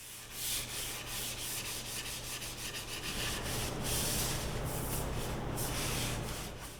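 A wooden cutting board's edges are sanded by hand, a steady rhythmic rasping rub of paper on wood, close and fairly even in strokes, with no talk.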